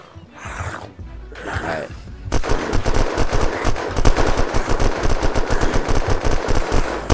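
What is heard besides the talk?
gunfire shooting a floor in the video game Unturned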